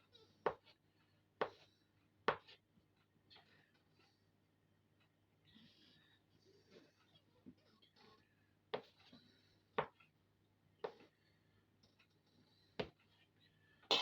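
A knife cuts processed cheese into strips and then cubes on a board, making sharp, quiet, irregular taps spaced a second or so apart, with soft rustling between them.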